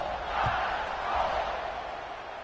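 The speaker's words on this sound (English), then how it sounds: "this crowd is buzzing after that last score" A big stadium crowd at an Alabama vs LSU college football game buzzes as a broad, steady roar that rises and falls slightly, with no clear voice standing out.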